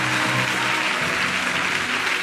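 Congregation at a church service applauding steadily, a dense, continuous wash of clapping with some low musical tones underneath, with no voices standing out.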